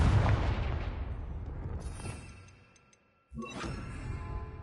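Confringo explosive spell blast in the video game Hogwarts Legacy, a loud booming burst that rumbles and decays over a few seconds, followed after a brief silence by a sharp crack and lingering rumble.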